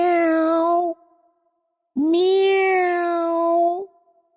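A person imitates a cat with two soft, drawn-out meows, close and clear, separated by a short silence, during a quiet night scene.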